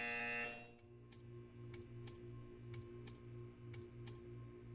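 A short electronic buzzer in Portal 2 sounds in regular pulses, about nine evenly spaced buzzes over a steady low hum, fairly close and clear.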